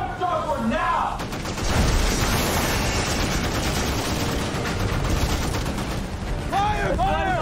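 Dense gunfire rattles in rapid bursts alongside heavy booming depth charges in a naval war battle, loud and continuous, with shouted voices at the start and end.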